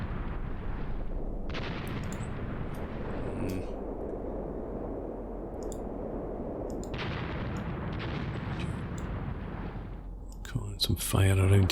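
Artillery guns firing in Graviteam Tactics: a steady low battlefield roar with two big booming onsets a few seconds apart, then a cluster of sharper reports near the end, loud and sustained.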